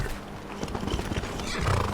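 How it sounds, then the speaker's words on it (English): A horse neighs and its hooves clop in Skyrim, a short whinny over steady hoofbeats filling about two seconds at moderate volume with no talk. "I'm gonna use this horse to go all the way up the"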